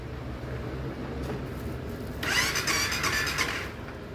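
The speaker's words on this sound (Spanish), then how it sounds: "Ah, bueno, ni arranca ahora." A Honda Twister motorcycle with a weak battery is cranked but fails to start, giving a steady whirring crank over a dull rumble for about a second and a half, close by, with no voices.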